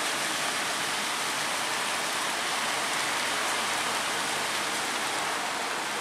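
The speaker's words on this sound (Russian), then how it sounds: "Как идет дождь, расскажите." Steady rain falling on the ground outdoors during a storm with hail, a continuous even hiss of drops, moderately soft and unbroken, with no voices.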